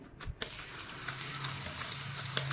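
Raw banana slices, dropped straight from water into hot oil for chips, fry with a steady, fairly quiet crackle and hiss, with a few brief sharper spits and pops over the continuous sizzle.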